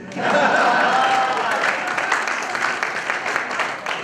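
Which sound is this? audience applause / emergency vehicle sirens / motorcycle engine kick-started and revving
audience applause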